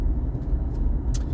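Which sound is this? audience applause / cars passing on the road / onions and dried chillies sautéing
cars passing on the road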